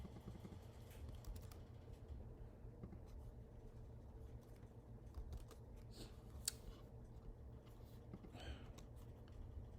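Faint, sparse clicks of a computer keyboard as a search is typed into Google, with scattered soft keystrokes over a low, steady room hum and no speech.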